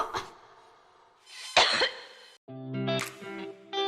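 A person coughs a few times in a cough-syrup advertisement, harsh dry bursts close to the mic, followed by a short musical jingle.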